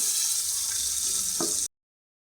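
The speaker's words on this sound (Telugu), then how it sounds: "ఇప్పుడు బియ్యం కూడా కడిగేసి పెడతాను" Running water splashes and hisses steadily as rice is rinsed, before cutting off abruptly.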